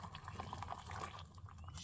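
Liquid poured into a small pot or container at a campsite, a steady watery trickle and fill sound lasting under two seconds, faint and close, with no talking.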